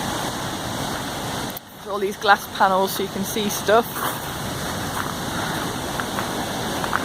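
River rushing through Gudbrandsjuvet gorge in Norway, heard from a viewpoint: a steady, loud broadband roar of water fills the whole clip, with someone talking over it in the middle.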